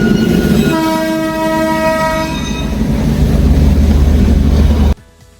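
Darjeeling's famous heritage toy train passes close by, its horn sounding in a long blast over a steady rumble of wheels and cars before the noise cuts off abruptly.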